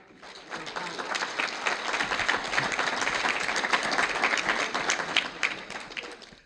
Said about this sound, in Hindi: भरपूर तालियों के साथ ज़रा दाद दीजिएगा एक बार फिर।